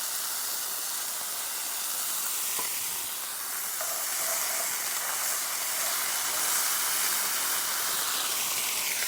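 Sloppy joe mixture sizzles in a pan on a small, very hot stove, a steady hissing fry with a faint click, no talking.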